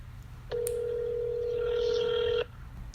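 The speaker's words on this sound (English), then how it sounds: "we're going to call her back on her phone" A telephone call going out, with a brief dial beep followed by a long steady ringback tone lasting about two seconds, clear and alone over low background hum.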